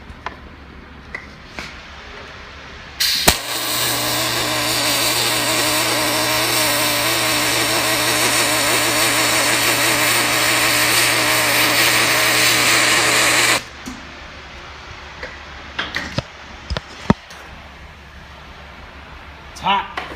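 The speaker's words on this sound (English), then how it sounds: "I'm just going to start back up here and weld, kind of push it along." A MIG welder runs a bead on aluminum, making a loud, steady buzzing crackle with a constant hum for about ten seconds. Quieter handling clicks and taps come before and after it.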